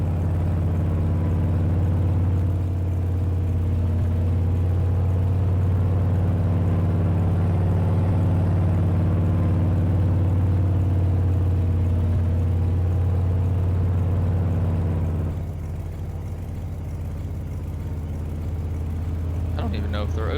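A vehicle in Farming Simulator 22 driving slowly along a snowy back road, a steady low engine drone throughout with a slight drop in level near the end.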